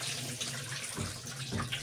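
Rinse water from washing rice splashes and pours steadily as it is tipped out of a container into a sink, with a continuous gurgling rush.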